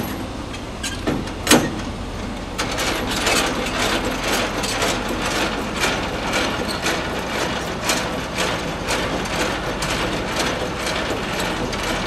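A tractor-trailer's landing gear is cranked down by hand, giving a steady run of close mechanical ratcheting clicks that carries on throughout, with a sharp clank near the start.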